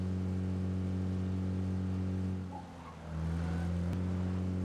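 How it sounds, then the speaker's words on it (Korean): Vehicle engine in PUBG on the Erangel map, a steady mid-pitched hum approaching from behind, dipping briefly and then swelling back at constant loudness, with no talk over it. "뒤에서 다른 참가자분이 탈 것을 타고 이동하는 엔진 소리가 들립니다"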